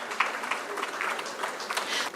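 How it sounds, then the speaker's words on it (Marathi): Audience applause at a law college award ceremony, a steady wash of many hands clapping from a mid-distance crowd, sustained and even throughout. "टाळ्या थांबल्या नाही पाहिजेत शेवटच्या अवॉर्डपर्यंत"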